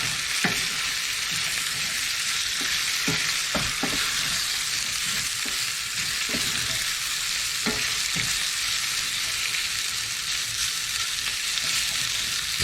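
Beef sears in a hot pan with a dense, continuous close-up sizzle and a few scattered pops and crackles, without any talking.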